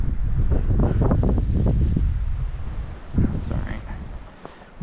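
Wind gusting across a snowy mountain trail on a snowshoe outing, a loud, rumbling buffeting that holds steady for about two seconds, eases, then surges again briefly before fading.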